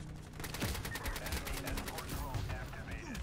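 Suppressed assault rifle fire in the online shooter Ironsight, a rapid run of evenly spaced muffled shots lasting a few seconds, close and steady, with no talking.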